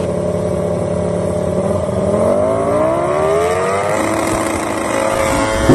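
Racing motorbike engine in a comic MotoGP Mandalika parody, a loud continuous drone whose pitch sweeps upward as it accelerates, then holds steady near and prominent throughout.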